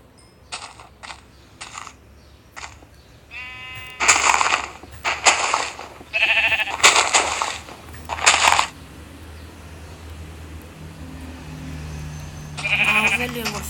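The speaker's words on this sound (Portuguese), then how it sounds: "achei duas ovelhas" Sheep bleating in the video game Minecraft, several short cries in a row at moderate loudness, followed by a few louder, longer bleats, over a steady low game background hum.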